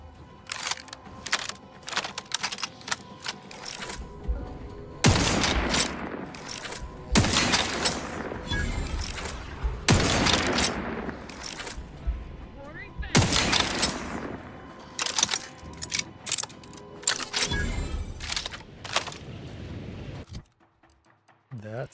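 Machine gun fire in The Outer Worlds, heard as loud repeated bursts of automatic shots separated by short gaps, with speech between the volleys.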